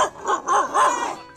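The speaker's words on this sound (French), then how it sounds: "oh les chiens, c'est bon" Dogs bark and yip in quick bursts outdoors near traditional houses and megaliths on Sumba, Indonesia, the barks close and fairly loud with rapid overlapping calls and no speech.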